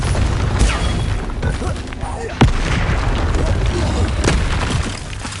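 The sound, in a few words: Bombarda or Confringo explosion spell from Hogwarts Legacy video game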